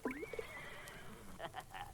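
A horse gives a short whinny that rises and then falls away, faint and brief, with no voices.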